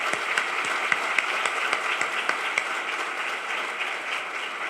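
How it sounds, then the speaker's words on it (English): Sustained audience applause for Dr. Edmondson at a luncheon event, a full, even roar of many hands clapping with a few sharper individual claps standing out, no speech over it. "you deserve very special applause today"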